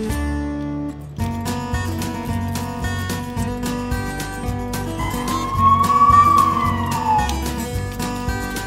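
A toy ambulance siren wails in a steady electronic loop over a thumping tinny melody, with a rising and falling whoop in the middle, loud and close.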